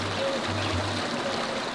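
River water in Jamaica flowing steadily, a constant close wash of rushing stream noise with no voices.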